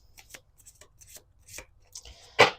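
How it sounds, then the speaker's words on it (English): Tarot cards shuffled by hand in a quiet room, heard as soft, close riffling and tapping bursts spread across the moment and ending in one louder, sharper shuffle. "We're going to do 2 more shuffles."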